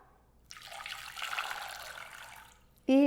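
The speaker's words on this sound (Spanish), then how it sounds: "Voy a agregar también agua" Water pours steadily into a pot holding a cone of piloncillo for a sweet syrup, a close, continuous splashing trickle lasting a couple of seconds before a brief sharp clatter at the end.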